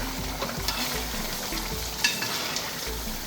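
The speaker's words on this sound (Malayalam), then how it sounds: "വേണമെങ്കിൽ നമുക്കൊന്ന് ഇളക്കി കൊടുക്കാം" Kottayam-style Kerala beef roast frying and being stirred in a pan, with a dense close sizzle, bubbling, and repeated scraping strokes of a spoon.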